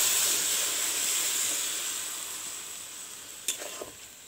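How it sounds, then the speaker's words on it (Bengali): Spiced cabbage and potato sizzle loudly in a pan as water is poured in, and the hiss fades gradually, with a few sharp spoon clinks near the end. "বাঁধাকপিটা আর আলুটা সিদ্ধ হওয়ার জন্য এতে আমি জল দিয়ে দিলাম"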